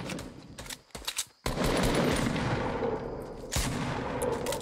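Rapid gunfire in the Fortnite video game: quick bursts of sharp cracks, then a dense sustained volley of automatic shots with a loud burst near the end, close and alone without talk.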